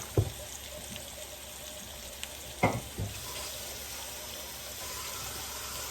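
Shrimp and spices fry in a pan with chili and coriander-cumin powder, a low steady sizzle under a few sharp knocks and scrapes of a utensil against the pan.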